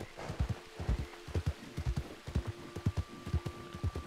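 Horse hooves clip-clopping in the Red Dead Redemption RP video game, a steady even rhythm of soft close hoofbeats at a walking pace, quiet and alone without speech.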